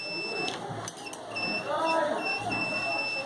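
A multimeter on its continuity setting, used for testing a mobile phone during repair, gives short high beeps that repeat at intervals beneath someone talking nearby.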